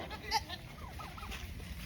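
Farm goats bleat a few times, faint and somewhat distant, with wavering calls over low outdoor background noise.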